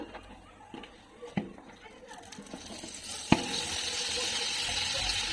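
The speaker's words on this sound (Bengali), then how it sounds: "1 থেকে 2 মিনিটের মতো হালুয়াটা ঘিয়ের মধ্যে একটু ভেজে নিব আমি" Ground lentil paste frying in ghee for halwa, a soft sizzle with scattered stirring taps that grows steadier and louder after a sharp knock midway; talk in the background.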